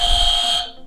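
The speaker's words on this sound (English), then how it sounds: "there goes the buzzer for Sacred Art Girls" A loud electronic buzzer sounds once with a steady, piercing tone that cuts off after under a second at an inter-school quiz competition.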